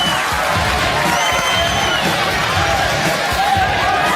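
A studio audience on the Jerry Springer show cheers and whoops loudly and continuously, a dense roar of shouting voices filling the room.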